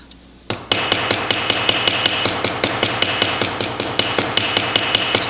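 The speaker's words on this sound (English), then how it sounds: "I've returned to my riveting hammer, but it can be a very light, small hammer. And I'm just tapping that edge" Small, light riveting hammer tapping down the edge of a tube rivet on metal, a steady run of about twenty crisp, evenly spaced metallic taps, close and clear.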